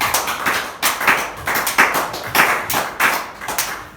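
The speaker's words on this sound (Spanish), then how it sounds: "Vamos a aplaudir a Jesús." A church congregation claps for Jesus in a steady, rhythmic beat, about two claps per second, loud and close, with no talking over it.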